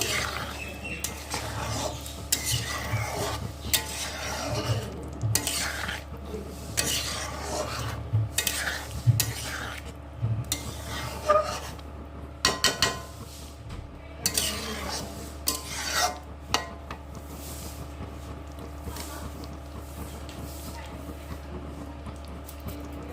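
Shahi paneer gravy is stirred in a pan after sugar goes in, giving a steady scraping, rasping rub that repeats throughout at close range with no voice over it.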